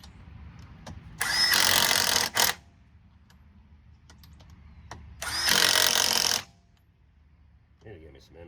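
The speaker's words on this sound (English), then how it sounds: "I love his new impact wrench from Harbor Freight." A Harbor Freight impact wrench fires in two loud bursts of about a second each, with a clatter of tools in between, heard close by in a garage.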